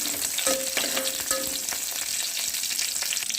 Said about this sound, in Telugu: సో ఆనియన్ అయితే ఫ్రై అయిపోయినాయి